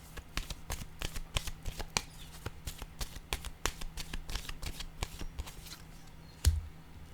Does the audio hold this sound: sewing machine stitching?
no